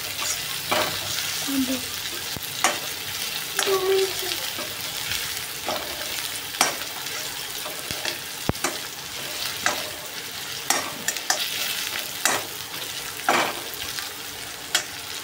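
Mixed vegetables fry in a pan for noodles, a steady sizzle broken by sharp clacks of a spatula stirring and scraping every second or so, close and moderately loud, no voices.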